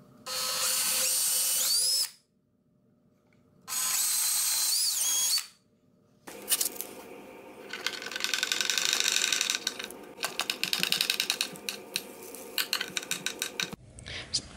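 A power drill bores holes while a Sugatsune lid stay hinge is installed on a cabinet door: two sharp whining bursts with pauses, then a longer stretch of rattling, ratcheting drilling that stops and starts.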